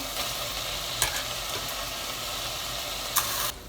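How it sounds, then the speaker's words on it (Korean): Cooked noodles for a garlic scape shrimp pasta are tossed and stir-fried in a pan with sauce, giving a steady close sizzle broken by two sharp clanks of a utensil before a sudden cutoff. "이렇게 들들들들 볶으면 끝이에요"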